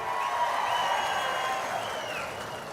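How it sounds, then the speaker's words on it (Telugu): Audience applause at a political gathering addressed by Chandrababu Naidu, a steady dense clapping with crowd noise, fairly loud and continuous throughout. "కష్టపడిన వాళ్ళందరికీ గట్టిగా చప్పట్లు కొట్టి అభినందించండి"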